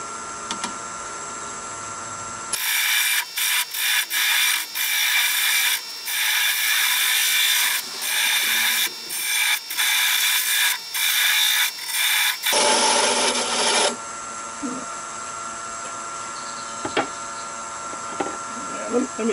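Wood being tapered on a lathe while turning a lighthouse: a loud, close, scraping cut with rhythmic chattering bursts for about ten seconds, preceded and followed by the quieter hum of the spinning lathe.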